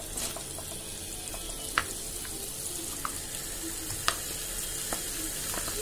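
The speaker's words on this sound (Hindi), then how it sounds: "अब हम इसमें पिसा हुआ खोबरा जो हमने ग्राइंड करके लिया था वो इसमें ऐड करेंगे।" Ground coconut being stirred into a crab masala in a hot pan, giving a steady soft sizzle with a few sharp ladle clicks against the pan, close and fairly quiet with no talking.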